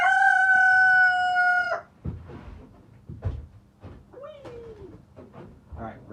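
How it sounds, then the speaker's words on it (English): A rooster named as a good boy crows outdoors, one loud sustained crow lasting under two seconds at the start, followed by quieter clucking, scuffing and a short squawk. "He's a good boy, but sometimes he doesn't know that he shouldn't be crowing."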